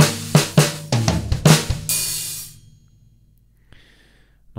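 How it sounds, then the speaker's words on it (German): A short tom fill on a drum kit, played in a drum cover of a song: about six quick resonant tom strokes followed by a sustained cymbal wash that fades into near silence. "Dieses Tom-Fill hört sich so an."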